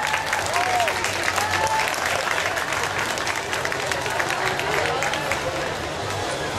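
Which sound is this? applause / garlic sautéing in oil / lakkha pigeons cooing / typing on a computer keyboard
applause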